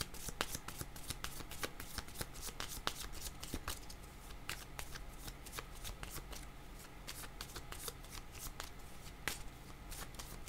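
Tarot cards are shuffled continuously by hand, giving a quick, close, rhythmic riffle of flicks and snaps with a faint low hum underneath and no clear speech.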